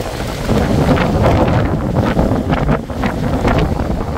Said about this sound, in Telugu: నాయన మామూలు గాలి కాదు